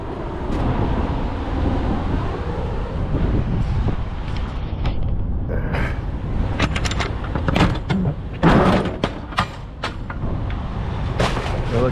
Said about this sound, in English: now that I'm pretty lined up, I can slide my tandems there